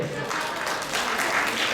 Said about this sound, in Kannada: ದೊಡ್ಡ ಚಪ್ಪಾಳೆ ಬರಲಿ ಅವರಿಗೆ